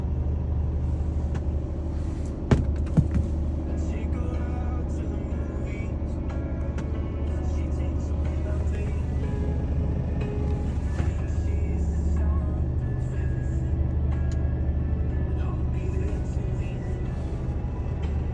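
A Mercedes-Benz Actros 1845 truck engine idles smoothly and evenly, a loud, continuous low diesel rumble heard close up with no breaks.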